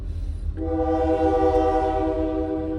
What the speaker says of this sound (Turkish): Tren geçiyor.